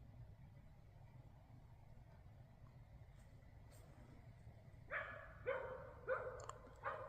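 A few distant dog barks ring out in the latter part from the woods, sporadic and fairly faint over a steady low rumble of background noise.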